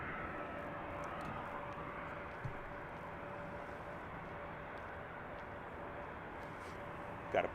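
An airliner departing Harry Reid International Airport in Las Vegas, bound for JFK, its engines a steady distant roar that holds evenly throughout, with a couple of faint knocks nearby and no voices.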